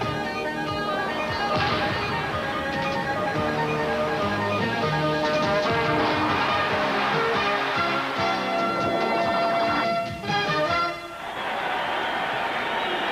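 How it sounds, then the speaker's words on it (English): A capacity crowd roars steadily at a 1986 Duke versus Georgia Tech college basketball game in Alexander Memorial Coliseum, Atlanta, a loud dense wash of cheering that dips briefly near the end. "That's the noise of Alexander Memorial Coliseum,"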